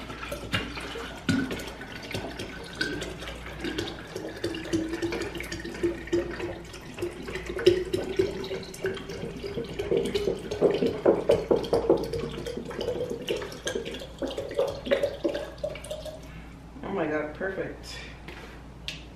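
Tap water running into a drinking bottle, a steady pouring rush whose pitch rises as the bottle fills, then stops; close and moderately loud, with a voice talking over it.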